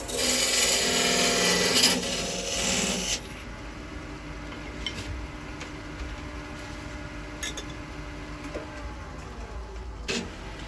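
A lathe tool cuts a small ledge into a wooden ball box shell. A loud rasping cut runs for about three seconds, then gives way to quieter scraping and light tool contact with a few sharp ticks.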